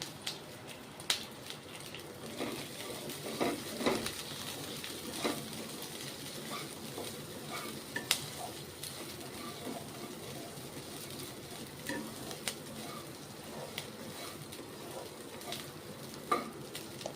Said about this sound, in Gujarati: અને તીખી મિરચી પાંચ એડ કરશું